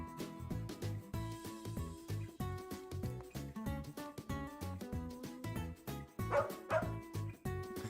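A cartoon dog in a cozy video game barks and yips over and over in a quick bouncy rhythm. The barks sit over a light, plucky game melody.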